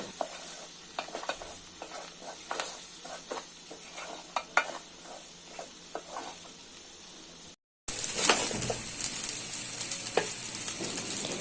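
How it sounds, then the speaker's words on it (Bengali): Broken rice grains fry with spices in a pan for traditional khud rice, giving a steady close sizzle with repeated stirring scrapes, then a brief silence before louder, more intense frying resumes. "চালগুলোকেও ভালোভাবে চেড়ে দেওয়া হচ্ছে মশলাগুলোর সাথে মিক্সড করে দেওয়া হচ্ছে আর হালকা ভাজা ভাজা করে নেওয়া হচ্ছে"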